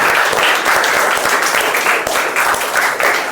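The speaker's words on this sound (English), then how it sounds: "Can we round of applause for them?" An audience at a Toastmasters club meeting gives a steady, dense round of applause, many hands clapping continuously at close range.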